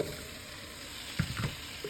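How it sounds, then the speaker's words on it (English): Chopped onions sizzle softly in melted butter in a pan for French onion soup. The frying is a quiet, even crackle with a couple of louder stir-like bursts near the end, and no voices. "So once the butter is melted, I'm gonna add in the onions."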